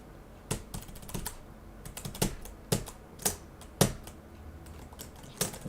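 Computer keyboard keys clack sharply during play of the platformer OvO, in irregular bursts of single presses with brief gaps, close and fairly loud in a quiet room.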